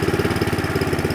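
A small go-kart engine runs steadily at idle, a close, loud, rapid chugging pulse with an even throb and no other sounds over it.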